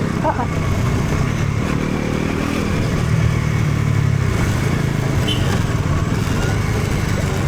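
A motorcycle engine drones steadily throughout in full gear, with wind rush and some rattling as the bike rides along at a constant pace on a mountain road near Darjeeling.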